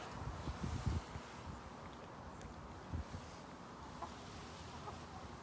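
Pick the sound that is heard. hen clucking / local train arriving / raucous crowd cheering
hen clucking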